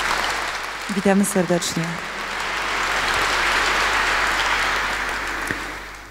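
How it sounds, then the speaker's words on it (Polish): A host's brief welcome gives way to warm, sustained audience applause for a guest at a Christmas and New Year charity concert in Bytom, steady clapping filling the hall for several seconds. "wielkimi brawami powitajmy"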